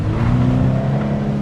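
A Toyota GT86 engine given a light touch of throttle, a loud close steady rev with a strong low drone throughout, no talking.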